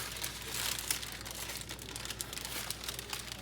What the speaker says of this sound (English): I will hopefully peel off this layer of parchment paper